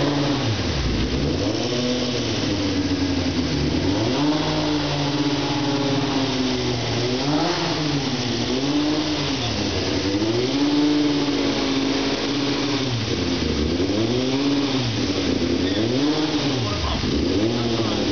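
Car engine revving repeatedly in steady up-and-down cycles on a second run after a radiator hose repair, loud and continuous throughout with no talk over it.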